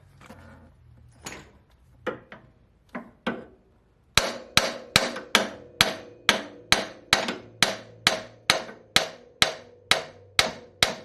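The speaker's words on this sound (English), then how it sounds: "I'm going to tap it a little bit and have it drop." A hammer tapping out a lower control arm bolt on a Mercedes W163 ML55, a few spaced knocks followed by a long run of steady, evenly timed sharp metallic strikes, close and loud.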